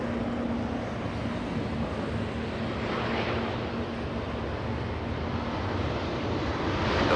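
An airliner takes off from runway 24 left at LAX, a broad, distant jet roar that holds steady and swells slightly toward the end, with wind noise over it.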